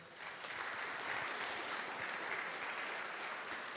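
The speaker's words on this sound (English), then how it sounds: "Please give him another round of applause" An audience at a hackathon opening ceremony applauds in a steady, full round of clapping, heard from a distance and fairly faint, with no voices over it.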